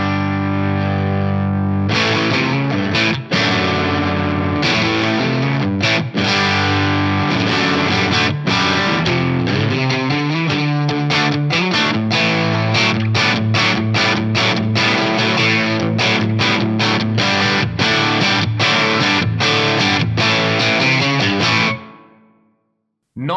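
Electric guitar played through a Yamaha DG-1000 preamp on its first crunch channel, a low-gain breakup tone with chugging chords and sharp rhythmic stops, loud and close with no talking.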